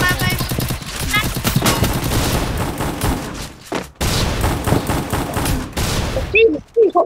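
Rapid gunfire from the video game Free Fire rattles in dense bursts with a brief gap, mixed with excited voices talking over the shooting.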